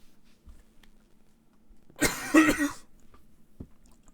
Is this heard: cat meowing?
no